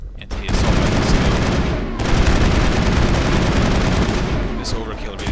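Sustained assault rifle fire in Mass Effect 1, a loud continuous stream of rapid shots with a brief break near the start and another around two seconds, crackling fire throughout. No one speaks.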